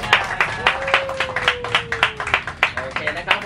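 A small group on a boat trip to Koh Rok claps in an uneven burst, with someone talking over the applause the whole time.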